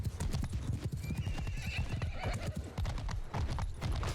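Horses galloping in Mount & Blade II: Bannerlord, a dense, continuous drumming of many hooves close by with an occasional whinny mixed in.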